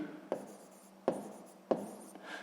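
A pen writes a sixth-grade math exercise by hand on paper, three distinct close scratching strokes at roughly even intervals, soft and quiet, with no voices.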